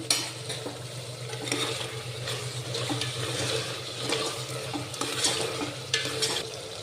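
Biryani masala frying in oil in a pan, with a steady broad sizzle and occasional stirring scrapes throughout, fairly close and continuous with no talking.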